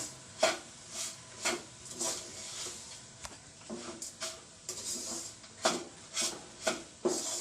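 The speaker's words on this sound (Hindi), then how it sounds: "जीरी डालेंगे चॉप की हुई, इसको अच्छे से मिक्स करेंगे" Chopped ingredients stirred in a pan for a healthy home recipe, heard as quiet, regular scraping strokes of a spoon against the pan, about one every half second, with no talk.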